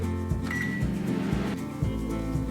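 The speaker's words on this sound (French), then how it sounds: "commencez à faire fondre votre tranche de beurre 20 secondes à 800 watts au micro-ondes" A microwave oven runs at 800 watts while melting a slice of butter, a steady low mechanical hum with a regular pulsing rhythm and a brief higher tone partway through.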